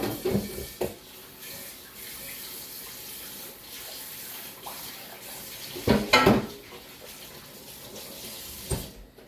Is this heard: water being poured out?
yes